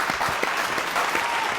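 A crowd claps loudly for a singer on a televised singing reality show, steady continuous applause filling the short stretch.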